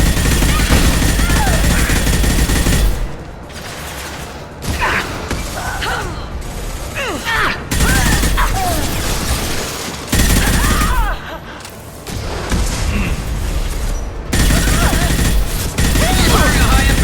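Bursts of gunfire from Mass Effect 2 in a dense, loud battle mix, with repeated volleys and mechanical clatter that come and go in waves over steady background game noise.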